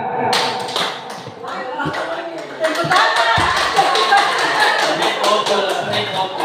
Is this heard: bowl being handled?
no